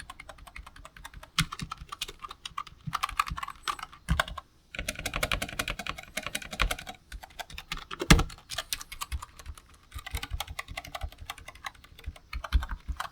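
Steady typing on a low-profile Razer DeathStalker V2 Pro keyboard, soft quick clicks and muted taps in an uneven rhythm, close by with short pauses between bursts.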